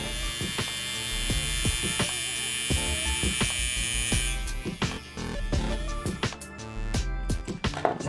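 A tattoo machine with a HAWINK cartridge and new coil runs right against a microphone, a steady buzzing hum with a pulsing rattle that grows rougher and more irregular toward the end.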